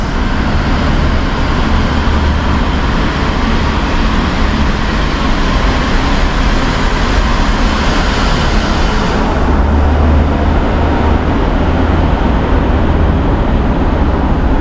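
Vehicles pass through Kaybiang Tunnel, filling it with a loud, steady roar of traffic that holds for the whole stretch and swells slightly near the end, with no voices.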